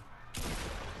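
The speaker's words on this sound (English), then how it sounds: "Will you hear that deagle?" A Desert Eagle pistol fires in a video game: after a quiet start, a sudden loud, sharp blast hits and leaves a dense, noisy tail for the rest of the moment.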